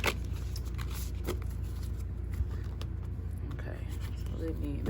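Soft riffling and shuffling of playing cards, quiet and close, with faint rustling and a low background hum.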